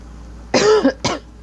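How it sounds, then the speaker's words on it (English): Two coughs close to the mic, a longer rough one followed by a short sharp one, with quiet in between and no talk. "Sorry about the coughing."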